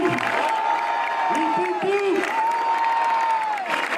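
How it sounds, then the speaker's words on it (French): A crowd applauds and cheers for the winner at the Tour Alsace 2017 cycling race, with steady clapping and a voice speaking over it. "Allez, pour notre vainqueur"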